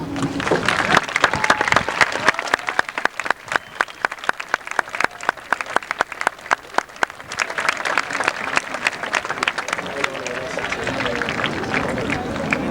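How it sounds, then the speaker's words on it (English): Loud, dense applause from a large crowd at a 1999 high school graduation ceremony, sustained clapping that gradually thins into scattered claps amid murmuring voices. "a well-deserved round of applause"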